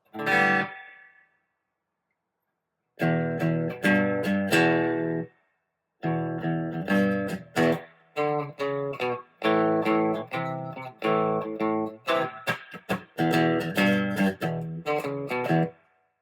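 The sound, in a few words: guitar amp spring reverb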